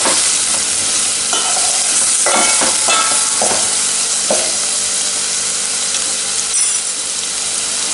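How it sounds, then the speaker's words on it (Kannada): Finely chopped onions fry in hot oil for a mushroom gravy, a loud continuous sizzle with several scraping stirs of a spatula in the pan, no voices. "ಹಚ್ಚಿಟ್ಟ ಈರುಳ್ಳಿಯನ್ನು ಸಣ್ಣದಾಗಿ ಹೆಚ್ಚಿ ಹಾಕ್ಕೊಳ್ತಾ ಇದ್ದೇನೆ. ಎಣ್ಣೆಯಲ್ಲಿ ಒಳ್ಳೆ ಫ್ರೈ ಆಗಬೇಕು."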